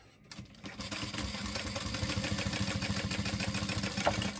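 After a brief quiet start, a sewing machine stitches around the curve of a fabric piece with a fast, even mechanical whir and a rapid rhythmic needle clatter. It runs close and steady to the end, with no talking.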